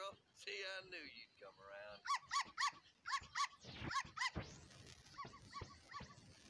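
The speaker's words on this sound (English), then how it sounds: "What's all the barking about?" A dog barks in a quick series of sharp, evenly spaced yelps, fairly close but low in level, after a stretch of other noise.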